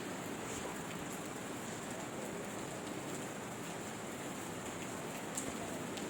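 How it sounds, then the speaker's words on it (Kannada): Heavy monsoon rain falling outside the hilltop Horanadu Annapoorneshwari temple in the Sahyadri hills: an even, continuous hiss of rainfall at moderate loudness, unbroken throughout, with no voices. "ಮಳೆ ಬರ್ತಾ ಇದೆಯಲ್ಲ, ಮಳೆ ಸೌಂಡ್ ಕೇಳಿಸ್ತಾ ಇದ್ದೆ, ಜೊತೆ ಮಳೆ ಕಾಣಿಸ್ತಾ ಇದೆ ನೋಡಿ"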